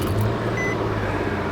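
A 2011 second-generation Nissan Xterra engine idles in a steady, even low hum for a brief moment, with no talking.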